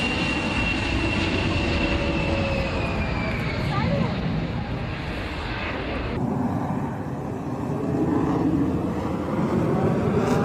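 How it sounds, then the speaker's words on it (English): A Beriev B-200 water-bomber skims a lake while scooping water before lifting off to fight wildfires, its aircraft engines roaring loud and steady throughout, with the tone shifting partway through. "A Beriev B-200 skims a lake, scooping up water before lifting off to fight wildfires."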